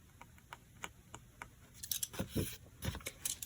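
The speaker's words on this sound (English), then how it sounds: "we want to trim off a little piece of the corner" A few soft snips of scissors cutting card, followed by a closer cluster of louder rustling cuts toward the end.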